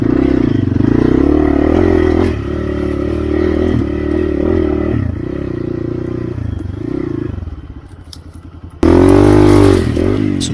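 Hero Xpulse motorcycle crossing a riverbed, its engine droning loud and close with revving rises and dips, splashing and clattering, easing off briefly before a burst of hard throttle near the end.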